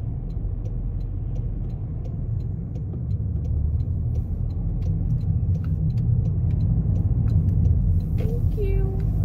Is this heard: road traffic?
yes